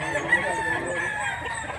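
A rooster in Mantalungon, Cebu, crows in one sustained, harmonic call lasting nearly two seconds, fairly clear and moderately loud.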